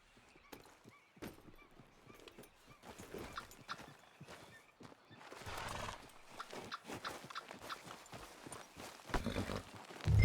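Horse hooves galloping in Red Dead Redemption 2, a steady run of clip-clop beats at middle distance with occasional snorts, carrying on without a break through the whole stretch.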